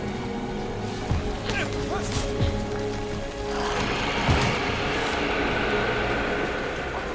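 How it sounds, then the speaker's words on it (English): Soft rain falling in the video game Guardians of the Galaxy, a quiet steady patter with game sounds and brief voices over it. "This is quiet, but it's rain."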